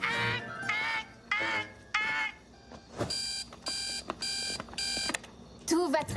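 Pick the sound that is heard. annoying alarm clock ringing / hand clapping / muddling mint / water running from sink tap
annoying alarm clock ringing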